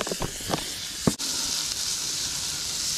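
Pre-cut potatoes dropped into butter in a non-stick pan at a camp stove: a couple of soft thuds and clatters, then a loud, steady close sizzle and hiss with no talking.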